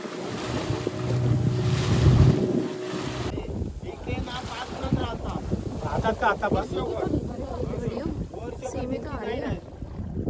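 A boat heads across the open sea toward a lighthouse off Malvan, its motor droning under steady wind buffeting and splashing waves, with people talking throughout.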